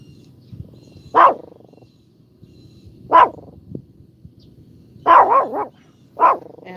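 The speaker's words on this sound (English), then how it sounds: "Barking at the man." A dog barks at a road grader operator on a rural road after rain, giving four separate sharp bark bursts, the third a rapid cluster of three or four barks, at moderate distance over a low ambient hum.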